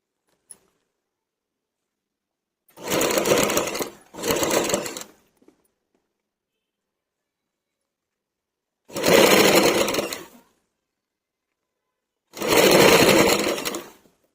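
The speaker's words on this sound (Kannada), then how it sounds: "ಇವಾಗ ಈ ರೀತಿ ನೀಟಾಗಿ ಪೈಪಿಂಗ್ನ ಆದಷ್ಟು ನಿಧಾನವಾಗಿ ಸ್ಟಿಚ್ ಮಾಡ್ಕೊಳ್ಳಿ" A sewing machine stitches piping onto a Kalamkari blouse in four separate runs, each about one to one and a half seconds of steady whirring hum, with near silence between them.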